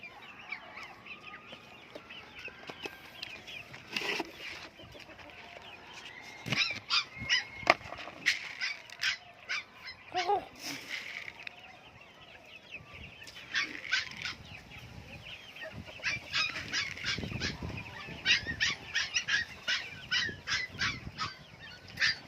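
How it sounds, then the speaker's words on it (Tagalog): Hens and a rooster clucking and squawking close by, with short bursts of rapid calls repeating through the clip and scattered rustling in between. "Ito yung ating inahin, yung ating tandang."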